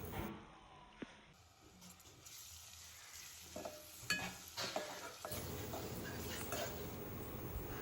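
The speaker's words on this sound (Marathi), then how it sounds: "दोन चमचे आगरी मसाला टाकून तेलावर परतून घ्यायचा आहे नंतर त्यामध्ये चिरून घेतलेला एक टॅमॅटो टाकून घेऊया" Aagri masala and chopped tomato sauté in hot oil for a village-style prawn curry. A steady close sizzle grows louder and fuller partway through, with scattered stirring clinks and scrapes.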